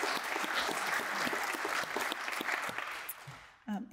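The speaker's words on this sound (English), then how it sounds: "Give them another round of applause." An audience at a museum's 125th anniversary event keeps up steady, dense applause that fills the room and fades toward the end. A brief voice cuts in as it dies down.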